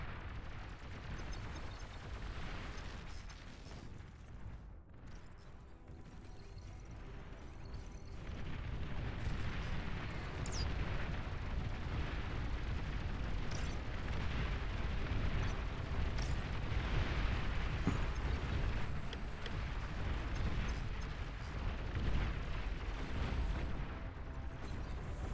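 A commander unit exploding in the real-time strategy game Beyond All Reason, a deep, rumbling blast that swells into a long, continuous roar of explosions and low booms.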